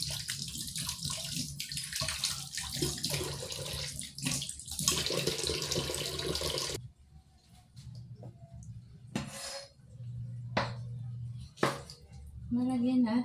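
Eggplant is washed under a running kitchen tap, a close, steady gush of water that then gives way to quieter handling sounds with brief splashes and clinks.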